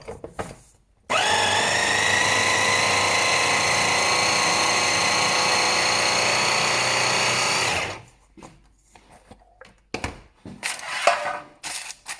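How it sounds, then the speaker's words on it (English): A home blender whirs through a chocolate bar base mixture, a loud steady motor whine running about seven seconds before stopping abruptly, followed by quiet scrapes and clatter of handling. "give it one more blend."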